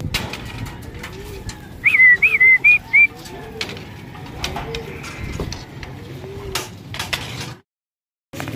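Pigeons coo softly in repeated low, rolling calls over several seconds, with a bright chirping whistle early on and scattered knocks and clatter around them.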